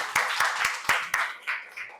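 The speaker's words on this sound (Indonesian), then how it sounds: "Oke, tepuk tangan." Scattered classroom clapping after a group presentation: a few sharp, separate claps at uneven intervals, rather sparse and close, with a brief murmur of voices behind.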